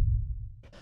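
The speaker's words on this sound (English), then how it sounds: "this techno kick" A single techno kick drum sample, a deep booming low thump that rings out for most of a second before a brief burst of higher noisy texture at the tail, heard alone.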